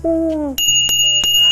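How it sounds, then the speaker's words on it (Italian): A bicycle bell on a bike in a children's programme rings three times in bright, metallic strikes with sustained shimmer. A short voiced sound comes just before it, and a low hum continues underneath. "campanello per segnalazioni acustiche"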